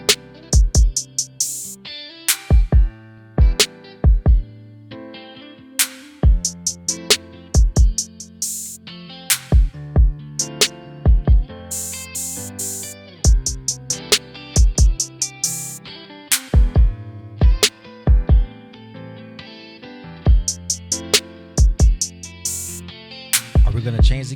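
A guitar chord progression sways back and forth between two chords in repeated strummed stabs with short pauses, bright and percussive, played alone at moderate volume.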